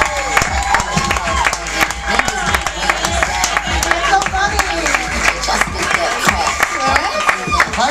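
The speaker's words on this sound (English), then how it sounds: "Clap it up as loud as you can for Keren Margolis." At a comedy roast show, the audience claps and cheers for a comedian, giving dense, lively applause that stays loud the whole time, with voices calling out within it.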